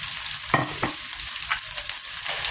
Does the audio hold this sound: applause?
no